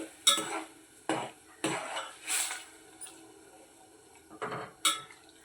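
Sago payasam ingredients, including tender coconut, being stirred and mixed in a pot, with a spoon knocking and scraping against metal in several clattering bursts, moderately close and without any talk.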